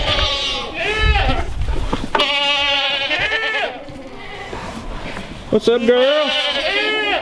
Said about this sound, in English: just barely missed another goat giving birth